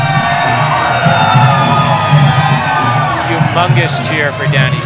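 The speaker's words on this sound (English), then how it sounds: "Humongous cheer for Danny Salick." A crowd at a celebrity boxing event cheers for a fighter, a loud sustained roar of whoops and shouts filling the hall, with an announcer's amplified voice over it.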